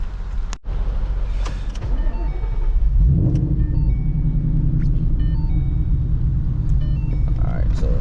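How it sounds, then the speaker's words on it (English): A 2014 Ford Mustang GT engine turns over about three seconds in on a rainy day, then settles into a steady, low idling rumble that continues to the end. "I'm just gonna start the car"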